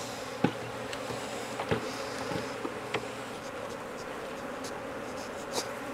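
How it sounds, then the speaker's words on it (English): A dense, steady buzz of many honey bees close by on a comb frame, with a few soft taps and knocks scattered through it. "I'm going to go ahead and shake those bees off"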